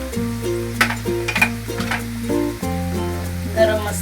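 Turmeric, coriander powder and garam masala sauté in a pan for a Konkan prawn curry, giving a continuous sizzle with brief stirring scrapes, heard up close with no talk over it.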